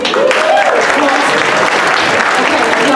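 Audience applause fills a sustainability gala hall, a loud, dense, steady clapping that holds for several seconds, with a voice speaking faintly beneath it.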